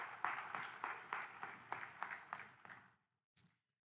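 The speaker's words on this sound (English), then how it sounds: "give them a round of applause" An audience at an annual faculty and staff meeting claps briefly, a few seconds of rhythmic, fairly close applause that stops abruptly, followed by one short clap after a pause.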